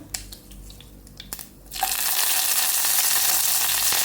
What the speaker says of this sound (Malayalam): എണ്ണ ചൂടായി വരുമ്പോൾ കുറച്ച് കടുക് ഇട്ട് കൊടുക്കാം.